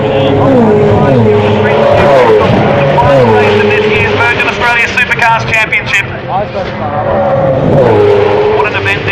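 V8 Supercars race cars in the final race of the Virgin Australia Supercars Championship, loud engines rising and falling in pitch as cars rev and pass close by, with a commentator talking over them.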